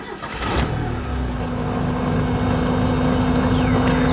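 A Porsche 944 engine cranks briefly, catches and settles into a steady close-up idle with a low rumble and a sustained mechanical hum, no voices over it.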